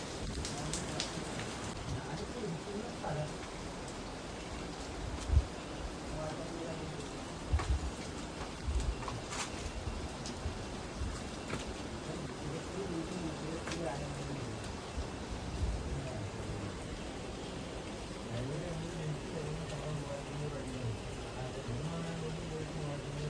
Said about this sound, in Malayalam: പുറത്താണി നല്ല മഴ പെയ്യുന്നുണ്ട്